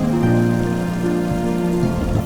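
Steady rain falls in Okinawa, a dense continuous patter that stays even and close throughout, with a low tonal hum running beneath it and no voices.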